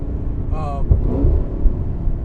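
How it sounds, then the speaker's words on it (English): A 550 wheel-horsepower modified Camaro ZL1 with a manual shifter being rev matched: a loud, close engine blip and rumble inside the car, with some talking around it. "It's just fun to rev match."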